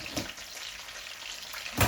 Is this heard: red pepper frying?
yes